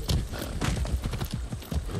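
Horse hooves clip-clop in the Far Cry 6 video game, a quick run of close, thudding steps in an uneven gait over a soft background wash.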